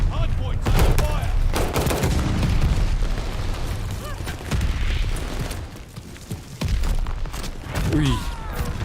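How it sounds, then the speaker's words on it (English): Mortar barrage explosions and gunfire in Call of Duty Vanguard: loud, dense bursts of rapid shots and booming impacts continue throughout, with voices talking underneath the combat. "Allies pulling a mortar barrage."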